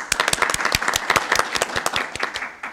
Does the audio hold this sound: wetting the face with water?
no